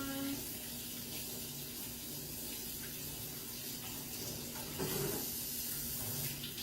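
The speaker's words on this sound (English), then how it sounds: "I got to wash my hands." Kitchen tap running steadily while hands are washed, a continuous close hiss of water with a slight change in splash near the end, a low voice faintly audible underneath.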